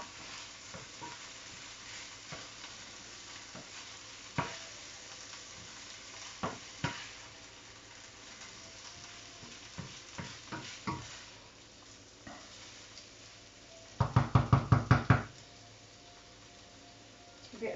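Fried rice stir-fried in olive oil in a pan, a steady low sizzle broken by scattered scraping stirs and a quick burst of clattering strokes near the end.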